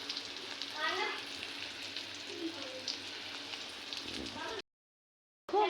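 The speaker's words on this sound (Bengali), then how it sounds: "করলা আর কাঁকরোল একসাথে ভাজা হচ্ছে।" Bitter gourd and pointed gourd fry together in a pan with a dense, close crackling sizzle that runs steadily, then cuts to silence briefly before resuming loudly.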